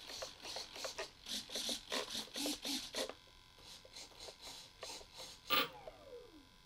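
Servos on a Durafly Brewster F2A Buffalo RC warbird buzz in quick bursts as the control surfaces move, a run of short rhythmic whirs, then sparser, quieter movements.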